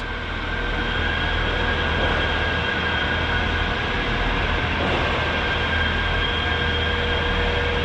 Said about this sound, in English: here comes one of the Manchester trams